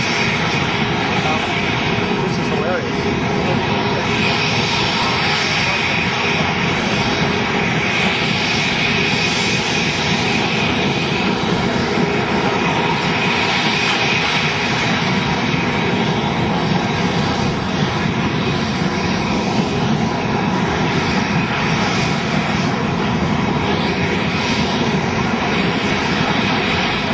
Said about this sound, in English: looks like the plane is still moving forward